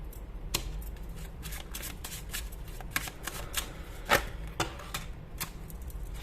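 A deck of tarot cards being shuffled by hand, a run of soft irregular riffling flicks and taps close by, with no one talking over them.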